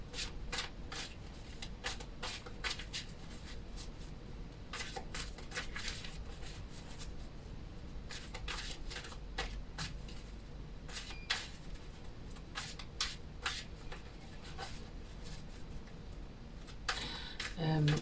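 Tarot cards being shuffled, giving a steady run of crisp riffling clicks and soft rubbing across the whole stretch, close and fairly quiet, with a faint murmur underneath.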